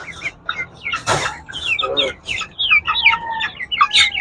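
Shamo chickens and their young chicks cluck and cheep in a close, busy chorus, with a sharp louder call near the middle and high chirps running throughout.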